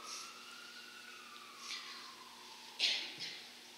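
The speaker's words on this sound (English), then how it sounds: "whenever I hear a siren" A faint siren wails, its pitch sliding downward, with a few short sharp chirps near the end over a quiet background.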